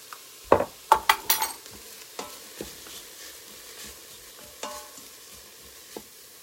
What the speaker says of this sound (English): now that the onions and the leeks are starting to cook down